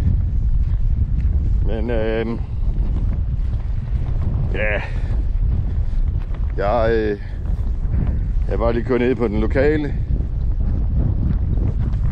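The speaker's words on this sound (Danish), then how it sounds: "Jeg synes, det virker som om det blæser noget mere end 7." Strong wind buffets the microphone on a stretch of coast at high water during a sea-trout fishing day, a constant low roar beneath someone talking.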